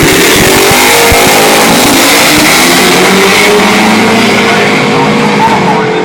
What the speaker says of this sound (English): That's 263 kilometres an hour for the Camaro Ballinger